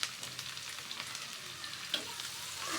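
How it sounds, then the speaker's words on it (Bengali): Chopped onion and chili sizzle and crackle in hot oil in a pan while being stirred, a dense, close frying hiss with small scraping bursts throughout. "এখানে পেঁয়াজ মরিচ দিয়ে দিলাম, দিয়ে একটু নাড়ব।"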